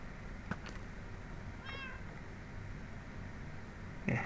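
A cat meows once in the Minecraft video game, a short clear call over a steady hiss of game background noise, with a couple of faint clicks around it and no voices.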